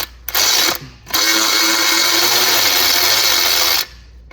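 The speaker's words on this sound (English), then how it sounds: "So I'm able to put a electric ratchet in here." Electric ratchet spinning an exhaust header bolt on a BMW E46 330i/325i: a brief loud whirring burst, a short pause, then a longer continuous buzzing run of about three seconds, close up.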